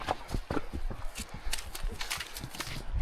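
Hooves of a Mongolian horse clip-clopping at a walk in Tunkhel, Mongolia, a steady run of close thuds under outdoor ambience with some faint background sound.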